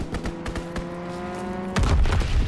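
Call of Duty WW2 fighter pilot strafing run: rapid distant gunfire cracks ripple through engine noise, then a heavier burst of impacts hits loud and close near the end.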